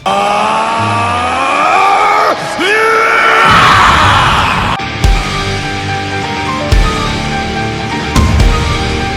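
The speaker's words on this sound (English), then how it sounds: "Vegeta went and screamed" Vegeta of Dragon Ball lets out a long, strained animated scream that rises and wavers, then gives way to bangs, rushing energy noise and sharp impacts typical of a cartoon battle.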